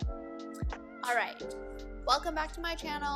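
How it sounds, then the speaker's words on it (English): A cat meows at a door: several drawn-out, rising and falling meows close by, mixed with someone talking over and between them. "She's been meowing at the door."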